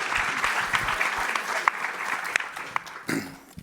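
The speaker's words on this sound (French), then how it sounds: "Oui, on peut applaudir." Audience applause at a French-language talk on harm reduction in care settings, a steady wash of clapping from a moderate-sized crowd with a few sharper individual claps standing out, fading slightly toward the end.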